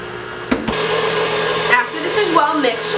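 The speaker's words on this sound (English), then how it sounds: "You're then going to lock your mixer and turn it on to a low level." An electric stand mixer runs on a low setting, mixing soft chocolate chip cookie dough with vanilla, a steady whirring drone with brief bumps of handling.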